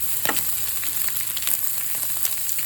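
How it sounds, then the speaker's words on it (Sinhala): Chopped cabbage, carrot and sliced fish-chilli being stir-fried in a hot pan for chicken koththu: a loud, continuous sizzle with quick clicks and scrapes of stirring, no voices. "ටිකකට කපාගත්තු ගෝවා කැරට් රවුමට කපාගත්තු මාළු මීස් දාගෙන හොඳින් තෙම්පරාදු කරගන්න"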